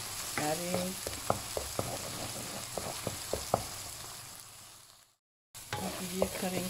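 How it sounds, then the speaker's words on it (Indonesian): Blended spice paste for kaffir lime coconut serunding stir-frying in a hot pan, a steady sizzle broken by sharp clinks and scrapes of a utensil, fading to a brief silent gap before resuming. "Kita tumis sehingga dia garing ya."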